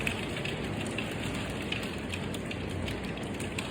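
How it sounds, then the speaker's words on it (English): Rain falls in the desert southwest, a steady close hiss of drops pattering on surfaces, even and unbroken throughout with no voices. "Unusual rain here in the desert southwest."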